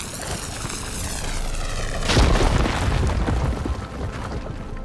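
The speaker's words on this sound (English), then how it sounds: "Should be able to blow up that fire gleam." Explosion blowing open a blocked tunnel in a PlayStation game, a sweeping whoosh that builds into a deep rumbling boom and then fades into a long tail, loud with no talking.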